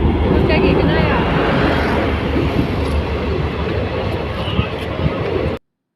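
A passenger train ride, heard from inside the carriage as a loud, continuous rumbling roar with rattling that holds steady for several seconds before cutting off abruptly, with voices talking beneath it.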